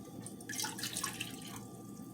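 Water poured from a cup into a cooking pot, a steady splashing pour for a couple of seconds, fairly quiet and close, with no talking.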